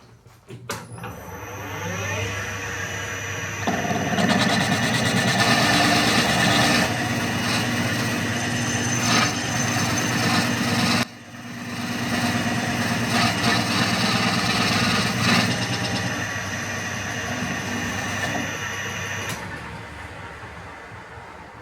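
A Hercus slotting machine takes a proof cut on a bronze bearing, giving off a steady, loud mechanical drone with a sharp whine that runs continuously, drops out for a moment midway, then resumes until near the end.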